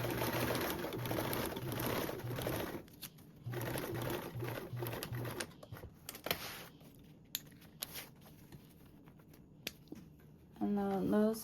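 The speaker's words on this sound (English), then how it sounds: "sew a little bit, back tack, and then finish your row of stitching" A sewing machine stitches binding on a duffle bag, with a close, rhythmic whirring run that stops briefly for a back tack, then continues. Quieter clicks and fabric handling follow, and a short tone sounds near the end.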